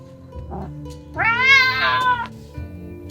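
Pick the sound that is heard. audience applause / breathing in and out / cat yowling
cat yowling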